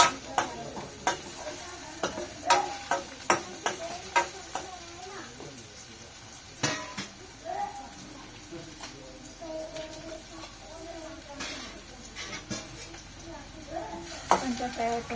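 Frying in a pan with coconut pieces about to be added, a steady sizzle broken by repeated sharp stirring scrapes and clacks of a spoon against the pan, close and fairly loud throughout.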